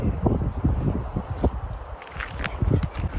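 Wind buffeting the microphone on a canoe trip in Algonquin Park, low gusty rumbles with soft splashy rustles, moderate and uneven, with no talk.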